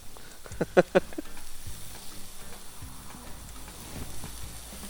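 Asado meat sizzling on a hot grill, a faint continuous crackle and hiss with a couple of sharper pops near the start, no talk.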